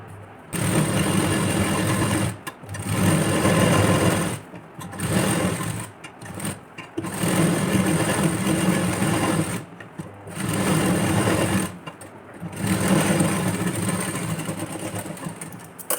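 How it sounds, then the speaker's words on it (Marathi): A sewing machine stitches sections of a padded blouse for a 31-inch chest, running in several steady bursts of a few seconds each, separated by short pauses, close and fairly loud with no talking. "प्रत्येक पार्ट हा आपण नेहमी जसा स्टिच करतो तसाच आपल्याला इथे हा पण पार्ट स्टिच करून घ्यायचा आहे"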